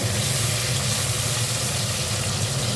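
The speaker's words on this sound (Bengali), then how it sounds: "উচ্ছেটা ভেজে তুলে রেখে দেবো" Bitter gourd frying in oil, a loud, constant dense sizzle over a steady low hum, with no talking.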